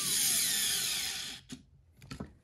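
A Skil 4V cordless screwdriver drives a screw with a steady high motor whine that stops abruptly as it torques out, followed by a few faint clicks and handling knocks.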